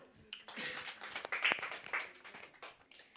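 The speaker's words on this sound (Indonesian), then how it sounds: "Beri tepuk tangan yang meriah untuk kelompok 1." Scattered clapping from a university class audience for a student group's presentation, fairly faint and uneven with sharp individual claps and some voices mixed in, lasting a few seconds.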